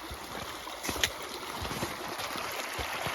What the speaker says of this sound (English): We got a nice little river coming.